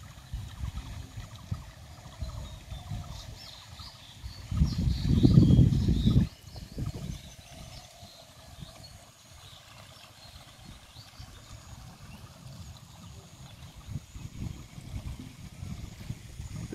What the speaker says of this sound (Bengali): জমিতে পানি দিচ্ছে আমাদের চাচা ধান খেতে। ওই যে ওখানে মোটর